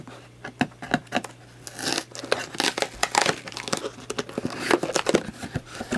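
Security tape and plastic packaging peeled and crinkled off a Radion XR15w Pro LED light and mount kit box, close-up irregular tearing and crumpling rustles with sharp crackles, no talking.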